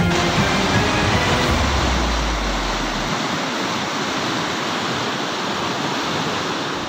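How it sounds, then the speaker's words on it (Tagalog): Floodwater rushes hard out of Kailanan Creek in Barangay Dampalit, Malabon, after the Dampalit tide control gate broke, a loud, steady roaring torrent with a low rumble fading early. "Ganito kalakas ang ragasa ng tubig palabas sa Kailanan Creek sa Barangay Dampalit, Malabon kahapon ng umaga matapos masira ang Dampalit Tide Control Gate"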